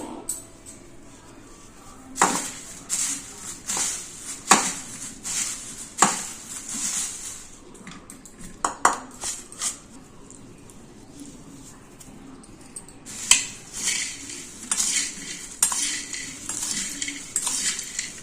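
A spoon scrapes and clinks against a pan while flattened rice is stirred with masala for homemade chivda, a series of irregular metallic knocks and scrapes between quieter pauses, fairly close and alone.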